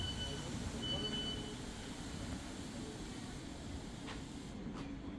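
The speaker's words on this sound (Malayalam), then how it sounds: "നമ്മളിപ്പോൾ റെയിൽവേ സ്റ്റേഷനിൽ എത്തിയിട്ടുണ്ട്" A train at a railway station, a steady low rumble with a faint hiss and a few light clicks near the end, heard at a moderate distance.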